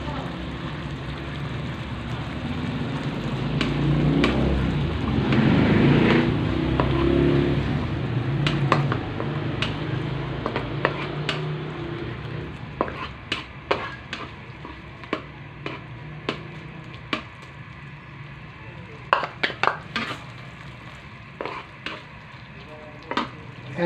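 Sardines and water sizzle and bubble in a pan while making spaghetti sardine sauce, a steady frying hiss with stirring in the first half, then sharp spoon clinks and scrapes against the pan, close and moderately loud, with no talk.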